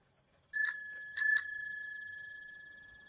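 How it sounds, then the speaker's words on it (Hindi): A bicycle bell rings suddenly on its own, two or three bright metallic dings that start sharp and ring out slowly in an otherwise quiet setting. "अचानक उसकी साइकिल की घंटी अपने आप बज उठी।"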